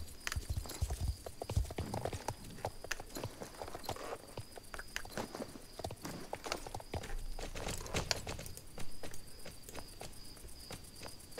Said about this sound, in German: Da ist ein Pferd.